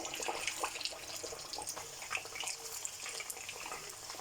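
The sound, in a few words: chicken kababs frying in hot oil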